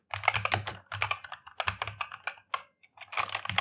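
Fingers type on a computer keyboard in quick, close clusters of clicks, broken by short pauses between bursts and with no speech.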